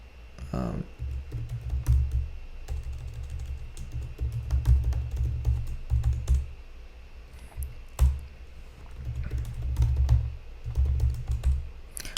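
Keystrokes on a computer keyboard while a keystore password is entered for Android app publishing, bursts of close clicky typing with short pauses between groups of keys.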